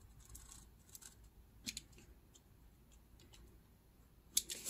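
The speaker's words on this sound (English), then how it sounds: "that rest I think I'm gonna cut with the scissors" Scissors snip through a paper envelope during a papercraft booklet project: quiet, close, with a few brief crisp cuts near the middle and a sharper cut toward the end, over a faint background.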